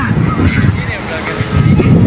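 Strong amihan wind roars and buffets the microphone in a loud, continuous low rumble, gusting slightly stronger toward the end.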